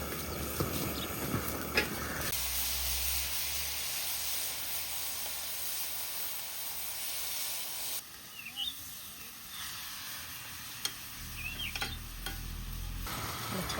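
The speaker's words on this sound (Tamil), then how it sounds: "துருவின தேங்காவை நெய்யில் வறுக்க போகிறேன்" Grated coconut fries in ghee in a pan, producing a continuous soft sizzle and hiss with occasional stirring scrapes. The sound shifts level partway through and stays moderately quiet.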